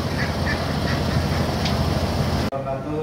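Ducks quack in the poultry section of an Islamic market selling chickens and ducks, several short nasal calls over busy market bustle before an abrupt cut to quieter sound.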